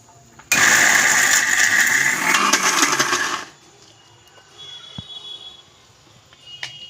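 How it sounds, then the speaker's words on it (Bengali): Mixer grinder whirring loudly for about three seconds as it grinds soaked mung lentils with salt, green chili, ginger, garlic and black pepper into a paste, then stopping abruptly, leaving quiet kitchen noise and a small clink. "গোলমরিচ দিয়ে এটাকে আমি বেটে নিচ্ছি"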